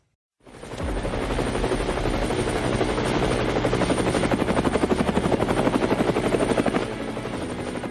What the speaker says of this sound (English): Helicopters, helicopters, helicopters.